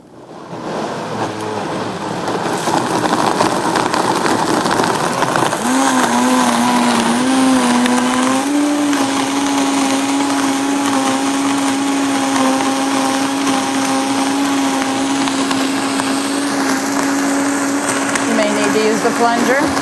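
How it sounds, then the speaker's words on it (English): A blender whirring through a green smoothie of cherries, bananas, collard greens, water, cacao nibs and dates, a loud continuous motor drone that rises in pitch as the contents break down and then holds steady. "I'm going to blend it up."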